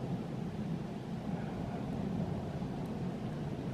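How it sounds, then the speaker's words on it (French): An airplane passes overhead outdoors with a steady, broad low rumble that holds for several seconds and is easily mistaken for wind, and nobody talks over it. "Ah, c'est un avion, putain, j'ai cru que c'était le vent"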